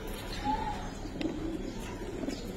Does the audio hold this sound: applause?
no